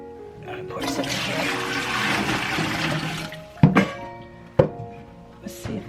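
Water pours steadily into a Berkey water filter for about three seconds, a broad rushing splash, followed by a few sharp plastic clunks as the container is handled.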